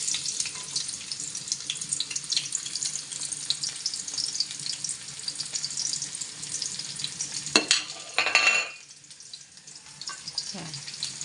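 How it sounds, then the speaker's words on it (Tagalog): Chopped garlic and onion go into hot oil in a pan for coconut-milk adobo, giving a steady faint sizzle with a short burst of clatter near the end. "Tayo natin yung bawang sibuyas"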